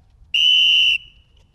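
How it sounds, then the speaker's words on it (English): A referee's whistle at a camp layup contest gives a single sharp, loud, steady blast of about half a second, then fades out, with no speech. "On my whistle! Ready!"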